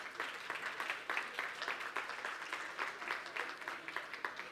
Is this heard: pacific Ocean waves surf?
no